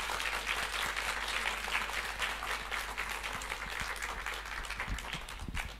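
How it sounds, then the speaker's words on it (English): Steady, dense applause from a crowd, sustained at an even level throughout with no talking. "So I really want a loud applause for Anna for the organization."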